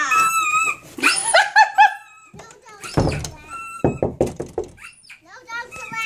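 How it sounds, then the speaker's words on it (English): A dog barks and growls at a squeaky toy indoors, with short sharp bursts and a quick run of barks partway through, heard close and loud among people talking. "You're driving that dog crazy."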